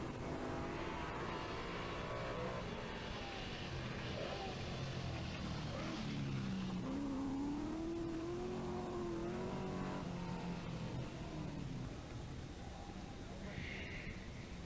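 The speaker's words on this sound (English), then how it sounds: "And this is Bob Fowden slinging around the TR-8, confident of catching the Opel" A Triumph TR8 rally car races along a stage at the 1982 Rally of the Lakes in Killarney, its engine droning and rising in pitch as it accelerates, with a narrator's voice over the steady car noise.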